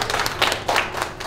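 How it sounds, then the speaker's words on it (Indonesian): Wedding guests clap for the bride and groom after a special roti buaya is presented, a dense burst of crowd applause with hand claps throughout, close and steady. "Boleh tepuk tangan semuanya."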